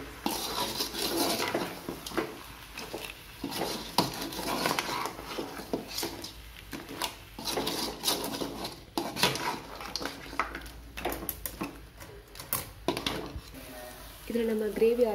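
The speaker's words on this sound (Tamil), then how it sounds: "இப்போ நம்ம வதக்கிக்கலாம்." Crab masala being sautéed in a pan, a metal spoon scraping and clinking against the pan in uneven bursts over a soft sizzle, with a voice talking at moments.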